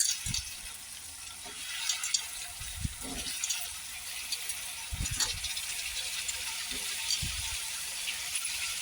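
Potatoes, tomatoes and onion sautéing in a pan give a soft, steady sizzle, broken every couple of seconds by low thuds and scrapes of stirring, quiet and close.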